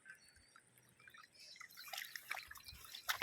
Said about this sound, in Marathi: इथे झरा आहे तलावामध्ये, हा बघा. तो डायरेक्ट तलाव जातो.